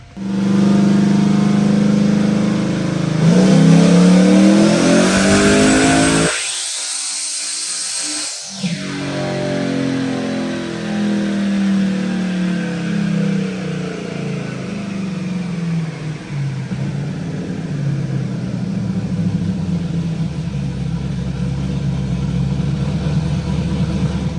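A truck engine revs hard on a dynamometer pull at 18 pounds of boost, a loud roaring climb that rises in pitch over the first several seconds, cuts off abruptly, then settles into a lower, sustained rumble.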